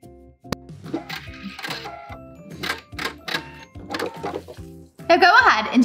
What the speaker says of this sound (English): continue sewing all the way down to the end